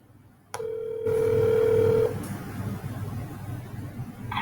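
A phone places a call to a support line through RingCentral: a steady dial tone sounds for about a second, then a ringback-like tone follows, with low background hum and a short electronic blip at the end.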